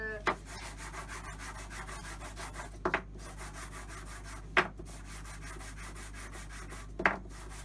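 A sander works over a wooden reserved-table sign, giving a steady, close, gritty rubbing hiss broken by a few sharp knocks spaced a couple of seconds apart.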